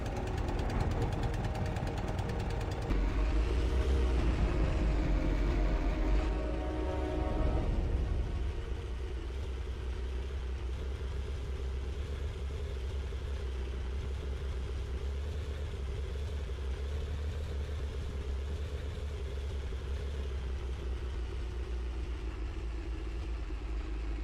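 A tank engine strains on a slope in the video game Sprocket, starting as a loud clattering rumble for several seconds before settling into a steady, lower droning hum that runs on without a break.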